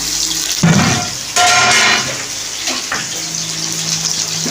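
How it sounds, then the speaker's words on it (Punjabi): Water is poured from a vessel into a cooking pot of onions, a splashing, gushing pour with a few bursts and clinks over a background hum. "ਤੇ ਇਹਨਾਂ ਥੋੜੇ ਜਿਹਾ ਪਾਣੀ ਪਾਣਾ ਹੈ"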